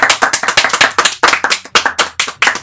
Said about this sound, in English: I totally started the slow clap.